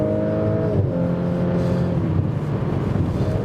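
Audi S5 Coupé engine accelerating, a steady loud tone with harmonics that climb, dip at a gear change, then rise again, heard from the cabin without talk.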